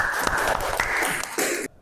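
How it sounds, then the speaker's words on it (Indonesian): Applause from a class during a lesson, a dense steady patter of clapping lasting nearly two seconds before stopping abruptly. "Tepuk tangan dulu."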